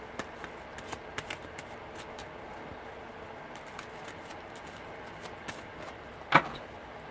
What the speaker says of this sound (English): Okay, that was a weird shuffle.